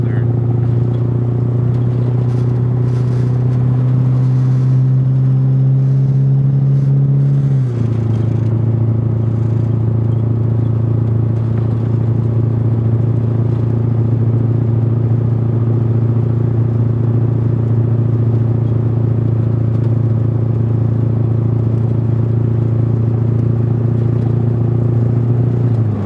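A car engine running on waste oil blend diesel fuel idles with a steady low drone, its pitch dropping slightly a few seconds in, then holding a constant rumble close by.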